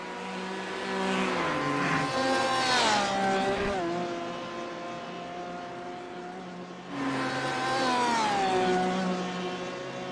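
Race cars of the Aussie Mixed & Fixed Series lapping the Nurburgring, loud engines whining and shifting pitch as they pass close by in two strong surges, with a brief lull between.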